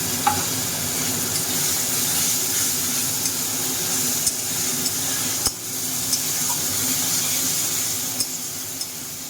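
A paste of garlic, ginger, green chili, coriander and white cumin fries in a pan. A dense, even sizzle runs throughout, with occasional clinks and scrapes of a utensil and no speech.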